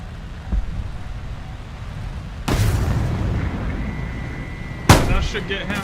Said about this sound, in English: I fired one missile.